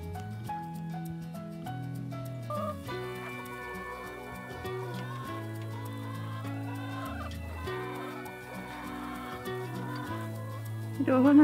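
Hens on a snowy winter farm cluck softly while steady background music with sustained notes plays over them throughout.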